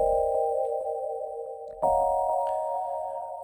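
Two sustained synth chords in a garage house production: the first rings steadily, then a second chord enters with a brighter attack around the midpoint while the reverb tail of the first keeps sounding beneath it, with no voices.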